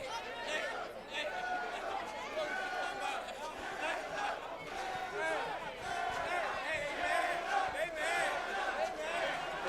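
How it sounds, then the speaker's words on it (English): Crowd at a DCS 66 fight event cheering and shouting for fighter Tanner Wonch, a sustained murmur of voices with bursts of cries rising and falling, fairly distant and steady throughout. "Crowd's cheering for Tanner Wonch don't see that every day."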